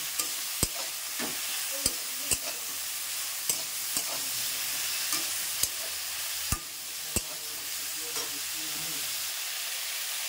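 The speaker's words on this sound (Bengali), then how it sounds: "ব্রোকলির মধ্যে লবণটা দিয়ে ভেজে দেব।" Broccoli fries in a pan with salt and turmeric, giving a steady sizzle throughout with sharp clicks and scrapes of stirring at irregular intervals, close and alone with no voices.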